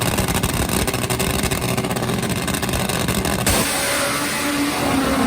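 Top Fuel nitro drag motorcycles launch off the line at a drag strip during final qualifying, a loud, continuous, harsh engine roar that holds steady and then shifts tone as the bikes pull away.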